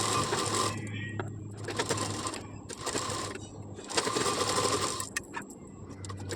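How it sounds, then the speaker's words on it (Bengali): A sewing machine stitches a nightie in bursts of steady whirring, pausing briefly between runs, close and fairly loud with a low mechanical hum underneath. "দেখো যেভাবে আমি সেলাই করছি।"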